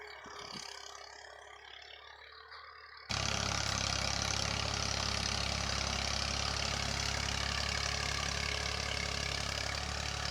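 Massey tractor engine running in a rural field while cultivating, a steady loud diesel drone that starts abruptly after three seconds of quieter background rumble and continues unbroken to the end.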